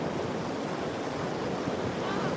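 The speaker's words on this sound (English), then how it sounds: "Look at those waves." Gulf of Mexico waves wash onto Pensacola beach at sunset in a continuous rushing surf, close and steady, with a breezy hiss blending into the broad roar of the water.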